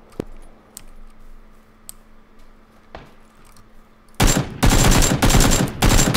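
Video game gunfire erupts loudly in rapid automatic bursts after a few quiet seconds with sparse isolated clicks.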